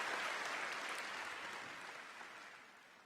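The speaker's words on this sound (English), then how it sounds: "Every time when she says something, they press a button to play this fake applause." Canned applause played at a motivational business conference, a smooth, even wash of crowd clapping that swells briefly and then fades gradually, with no voices over it.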